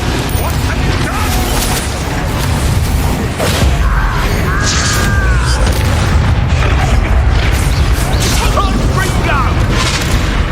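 Booming spell explosions from the Confringo spell in Hogwarts Legacy, loud and continuous, with dense rumbling blasts filling the scene while voices speak over them.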